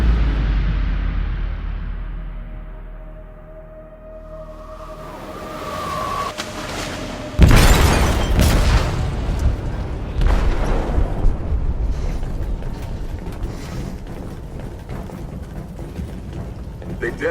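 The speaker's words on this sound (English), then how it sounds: "They detonated an explosive in the hold." A game explosion tears through a ship's hold with a sudden loud broadband boom, then a long rumbling roar of debris and chaos that lingers under the scene.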